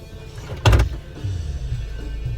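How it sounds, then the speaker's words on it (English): A car power window whirs open briefly and close by, followed by a low, steady rush of ambient noise from outside. "Let's crack this window."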